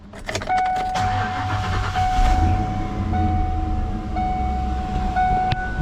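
A 1992–1995 Ford Mustang engine with a high oil pressure fault cranks briefly, catches, and settles into a steady running idle with a constant whine, close and moderately loud.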